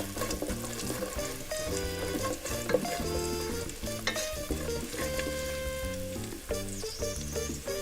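Garlic and pepper sizzle in a frying pan with a busy, steady frying crackle up close, broken by occasional clinks and stirring sounds.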